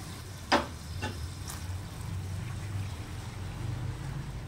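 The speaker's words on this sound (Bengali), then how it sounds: "মশলাটাকে ভালো করে কষিয়ে নিচ্ছি" Sugared spice masala for a vegetarian paneer biryani being stir-fried in a pan: a faint, steady sizzle with one sharp scrape of the utensil near the start and a few softer strokes after.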